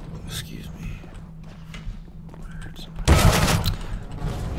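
SMG fire in the game CS:GO: a short, loud burst of rapid shots erupts late, after a stretch of quieter footsteps and game noise, with a player talking.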